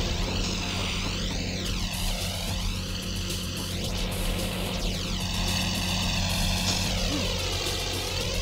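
An out-of-control plane from the Spider-Man 2: Enter Electro video game drones steadily with a propeller-engine hum, its pitch sweeping up and down in waves over a constant low rumble and layered game music.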